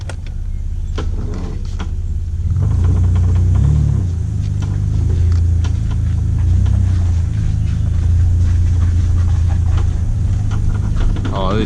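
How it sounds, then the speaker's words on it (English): A Nissan Skyline R31 drift car drives over rough bush track, its engine a loud, steady low rumble with knocks and rattles from the cabin, and voices occasionally heard over it. "I'm driving a full drift car in the bush"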